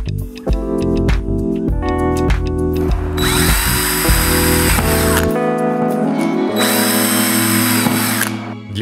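A power drill drives 3.9 by 9.5 mm self-tapping screws into the profile of a NOVA system sliding door, loud and close, with whirring runs that rise in pitch and stop between screws.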